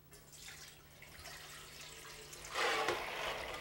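Water draining through a colander of soaked sprouts in a home kitchen, a steady soft trickle and splash that swells louder toward the end.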